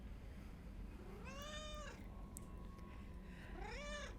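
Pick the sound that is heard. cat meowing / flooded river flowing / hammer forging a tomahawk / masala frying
cat meowing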